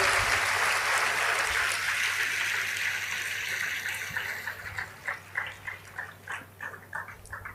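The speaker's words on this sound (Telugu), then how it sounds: "మీరు మీ వరకు కొట్టండి చప్పట్లో." An audience claps, starting as a dense, loud wash of applause that thins into scattered, individual hand claps toward the end.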